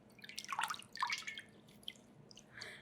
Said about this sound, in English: I just sort of pull them up out of the water